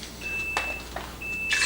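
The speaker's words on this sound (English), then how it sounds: "Everything beeps at you." Two short electronic beeps from a kitchen appliance sound about a second apart, each a thin steady tone over faint clatter and background noise.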